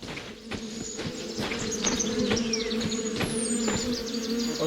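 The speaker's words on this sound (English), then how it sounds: "I hear the bees." Steady insect buzzing of bees in a wooded game setting in The Vale, a continuous drone with faint bird chirps over it, moderately close and unbroken for the whole stretch.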